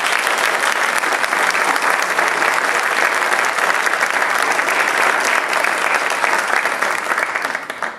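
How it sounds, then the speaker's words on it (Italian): A theatre audience gives a long, steady round of applause to a local band at a tribute concert; dense, even clapping from many hands that tapers off at the very end. "Facciamogli un applauso."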